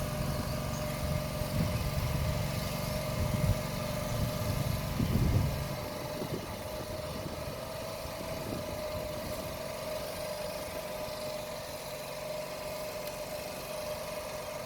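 A tractor engine runs steadily throughout, a continuous mid-level drone with heavier low rumbling and some clatter in the first five seconds before settling into an even idle-like hum.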